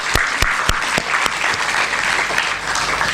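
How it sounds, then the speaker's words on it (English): Loud applause from a conference audience at a Women's Day keynote, a thick, sustained burst of many hands with a few sharp, close thumps early on, steady throughout and free of talk. "So big claps, Maharashtra"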